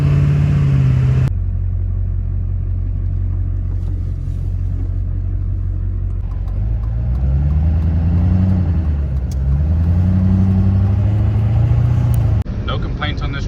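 A pickup truck bought from an auto auction drives down the road on a test run, with a loud, steady low engine rumble and pitch rising and falling as it shifts through gears, cabin noise throughout.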